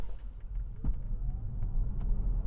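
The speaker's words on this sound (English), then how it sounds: "Now let's accelerate this car." Hyundai IONIQ 6 electric car accelerating on the road, a steady low rumble of tyres and motor with a faint rising whine, heard from inside the cabin with no talking.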